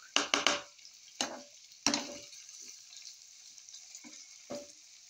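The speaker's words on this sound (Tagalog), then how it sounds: "Now we cook this one, potatoes and onions and garlics, just only half cook." Potatoes, onions and garlic fry in a pan with a soft, steady sizzle, broken by several sharp scraping knocks as the food is stirred.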